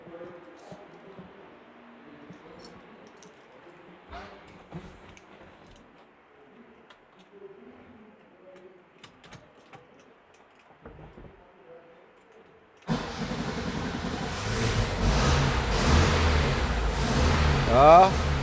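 A beige 1968 Volkswagen Fusca 1300 air-cooled engine cranks and fires, then runs at a loud, steady idle close by, after a long quiet stretch of soft murmuring and handling noises.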